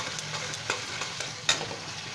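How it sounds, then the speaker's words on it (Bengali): Spices coated with turmeric sizzle in a hot pan with oil as a utensil scrapes and stirs them, a steady close frying hiss broken by a few sharp clinks. "এবার এটা ভালো করে কষাতে হবে।"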